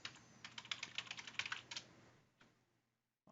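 Fast, steady typing on a computer keyboard, a close run of crisp keystrokes that slows and stops, leaving near silence.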